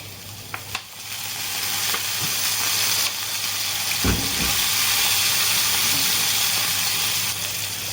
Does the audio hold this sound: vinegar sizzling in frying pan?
yes